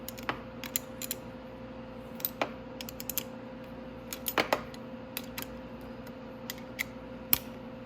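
A wrench working a nut loose on a motorcycle brake handle, one of the x18–x22R models, gives a scatter of sharp metallic clicks and ticks. They come at irregular intervals over a steady low hum, close by and moderately quiet.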